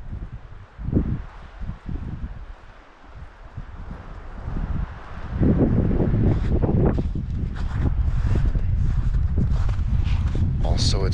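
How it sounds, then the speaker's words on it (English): Strong wind blows outdoors along a narrow trail, buffeting the microphone with loud, steady rumbling gusts, alongside footsteps and rustling, while a person speaks throughout. "the wind is blowing this way right now"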